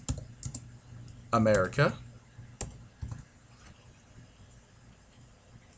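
Keystrokes on a remote or on-screen keyboard in the XBMC media centre enter a movie title, producing scattered soft clicks at moderate distance, with a short burst of speech in the middle.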